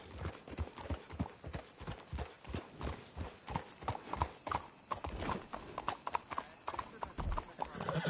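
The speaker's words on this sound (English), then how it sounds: "Let's hitch the horses up ahead." Steady rhythmic clip-clop of horse hooves at a walking pace in the video game Red Dead Redemption 2, close by, with an occasional snort and faint voices underneath.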